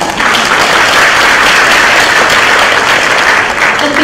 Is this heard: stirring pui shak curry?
no